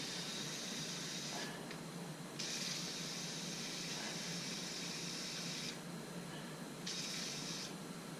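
An aerosol can sprays into a 2003 Mini Cooper AC line, a continuous faint hiss with two stronger bursts, quiet and close.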